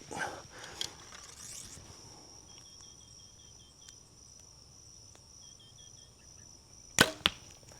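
A quick thwack of an arrow released from a bow, then a second knock just after, against steady outdoor cricket chirping.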